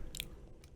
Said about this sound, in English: So you crunch it like close to the mic like this.